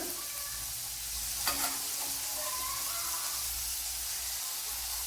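Onions sautéing in a pan while preparing restaurant-style chicken fry, a steady close sizzle with soft stirring scrapes and one brief clink, no talk.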